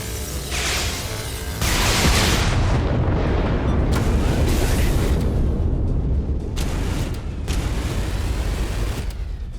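Torpedo blasts strike a space base in the game EVERSPACE 2, a run of heavy, rumbling booms that roll one into the next, loud and close with no talk over them.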